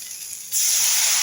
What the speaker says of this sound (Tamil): புளி தண்ணி விடலாம்